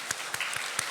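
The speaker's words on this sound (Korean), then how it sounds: "감사의 박수 하겠습니다." Church congregation giving a brief round of thankful applause, four distinct clapping bursts in under a second, moderately loud in a reverberant hall.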